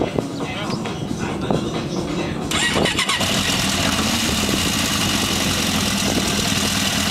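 A motorcycle engine runs up close, its rough mechanical drone swelling suddenly louder and steadier after a couple of seconds as the bike pulls away, with voices faintly in the background.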